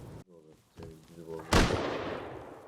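An automated turret in the survival game Rust fires one sudden loud blast that rings and fades away, after a few seconds of speech.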